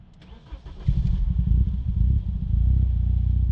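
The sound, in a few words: BMW E30 M3 engine starting up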